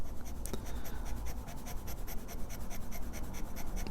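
A medium-nib Jinhao 9056 fountain pen writes on paper in close, faint scratchy strokes that repeat in a quick steady rhythm over a low background hiss.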